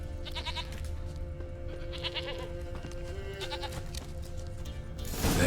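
A goat in The Witcher 3 video game bleats several times in short, wavering calls spaced across the clip, heard clearly over a low ambient game background, with a louder noisy burst at the very end.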